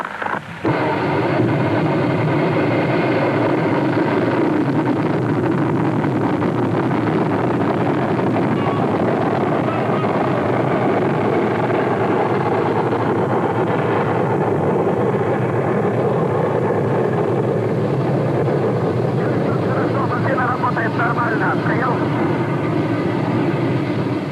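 Continuous heavy roar of a Vostok rocket engine at ignition and launch, starting with a sharp onset and then a sustained broadband rumble with wind-like buffeting for over twenty seconds, no talking.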